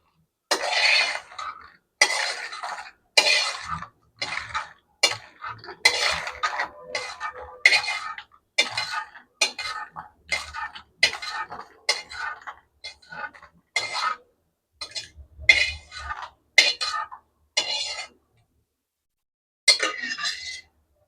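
Dried red chillies and tamarind pounded in a mortar while making drumstick-leaf chutney powder, a long run of regular dull thuds with short gaps, close and clear, without talk.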